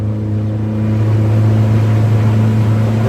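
A boat's outboard engine revving under throttle on the water as the bow lifts, a loud, steady droning hum with strong low tones that holds without a break, no talking.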